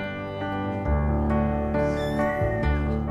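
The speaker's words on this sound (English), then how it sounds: "A kitten is a baby cat." A kitten meows over a sustained musical backing in a children's English-learning programme, with the cries rising and falling briefly above the steady tones.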